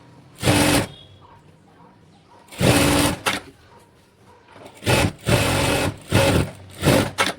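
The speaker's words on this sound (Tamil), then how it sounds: "ஸ்லீவோட கீழ் பக்கத்தை நம்ம மடித்து வச்சுக்கலாங்க ரெண்டு ஸ்டிச்சிங் கொடுத்துக்கலாம்" Sewing machine stitching the folded-under sleeve hem of a silk saree umbrella frock, running in several separate bursts of steady mechanical whirring with short quiet pauses between them.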